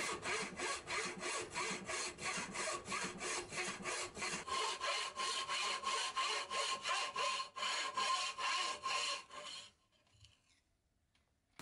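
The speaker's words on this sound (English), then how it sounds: "I could remove some waste now and then to make room for the saw frame and continue the cuts" A frame saw rips through thick wood for an octagonal table column in a steady run of about twenty close, rasping push-pull strokes. The strokes stop abruptly and leave near silence.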